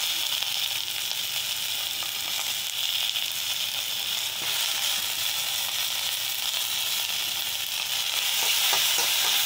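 Onion, ginger-garlic paste and tomato sauté with a continuous bright hiss and crackle that stays even and close throughout, with no voices.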